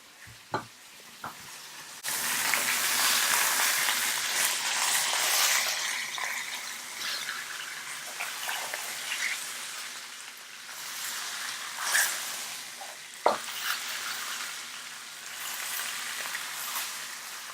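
Lamb shanks sear in a hot pan with a loud, continuous sizzle that swells and settles as the meat is turned, marked by a few sharp clunks.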